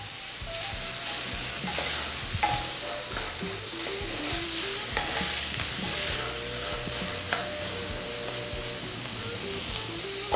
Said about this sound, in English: Just want to keep moving the corn around because you don't want it to stick